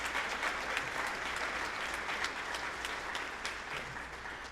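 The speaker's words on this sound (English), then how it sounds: "Give all the seniors another round of applause just because." An audience in a school concert hall applauds the seniors after a spring band performance, a dense, even wash of clapping that holds for several seconds and fades slightly toward the end.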